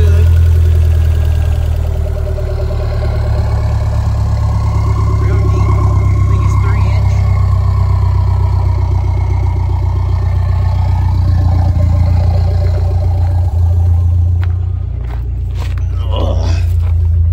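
A Toyota MR2 engine with a 5-speed idles after startup with a steady low rumble, close by, as a person talks over it.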